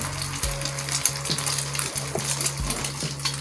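Potato tikki patties sizzling on a tawa griddle, a steady close frying hiss with a few metallic clinks of a spatula against the pan.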